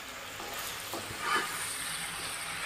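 Prawns frying gently in hot oil in a kadai, a steady soft sizzle throughout with a brief brighter crackle near the middle, heard close and with no one talking.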